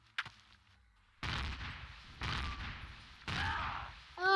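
A gun turret at an abandoned smelter fires in the space game Empyrion, three separate bursts of rapid shots about a second apart, each ringing briefly, with a short yelp just before the first.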